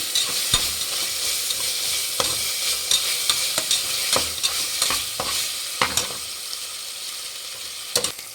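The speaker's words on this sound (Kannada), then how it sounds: "ಒಂದು ಟೇಬಲ್ ಸ್ಪೂನ್ ಶುಂಠಿ ಬೆಳ್ಳುಳ್ಳಿ ಪೇಸ್ಟ್ ಹಾಕ್ಕೊಂಡು ಚೆನ್ನಾಗಿ ಫ್ರೈ ಮಾಡಿ" Ginger garlic paste frying in a pan for egg biryani sizzles steadily while a spoon stirs it with repeated sharp scrapes and knocks, close and loud, with no voices.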